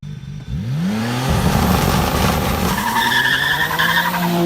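A Nissan Skyline GTR makes an all-wheel-drive launch from 6500 RPM: the engine holds high revs, then roars loudly and steadily as the car pulls away, with a rising tone and some tire noise, close and alone.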